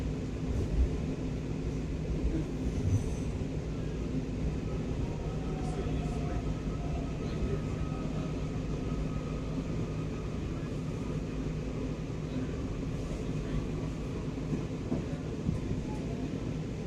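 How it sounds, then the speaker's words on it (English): A Kawasaki 7000 Series Washington Metro Blue Line train rumbles steadily in a station, a continuous low mechanical drone with faint tonal hums and no clear talking over it. "This is a Blue Line train to Largo Town Center"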